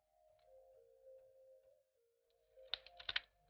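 A few quick computer keyboard key presses, paste and enter, click faintly near the end after a low electronic hum.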